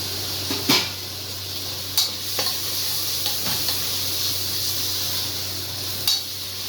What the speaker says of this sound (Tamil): இப்போ வந்து தக்காளி போட்டுக்கலாம்